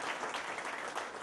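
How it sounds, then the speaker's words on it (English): Audience applause for a speaker at a talk, a brief, faint, even wash of many hands clapping, heard alone with no voices over it. "Let's here have a big round of applause for him."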